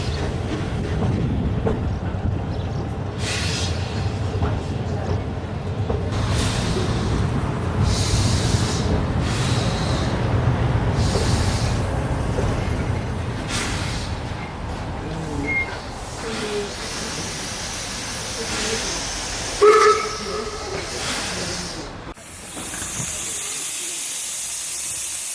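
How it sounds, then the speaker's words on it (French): A steam train on the Baie de Somme railway rolls into its terminus with a heavy low rumble, then a loud sustained steam hiss takes over near the end, with a few clanks and squeals in between. "La rame snobe la halte de Saint-Valery-Ville, tout entière tendue vers son terminus à 500 mètres de là."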